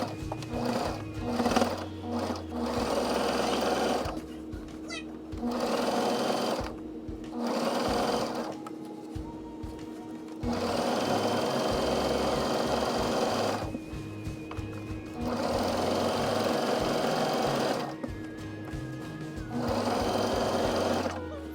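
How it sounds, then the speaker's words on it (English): A sewing machine top stitches the bottom of a flipped-over channel on a summer dress, running in repeated bursts of steady rapid whirring separated by short pauses. "I flip the channel over and top stitch the bottom down"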